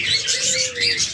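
Caged birds including diamond doves, cockatiels and budgerigars call close by, a busy overlapping run of chirps and tweets with a soft low tone beneath, no talking.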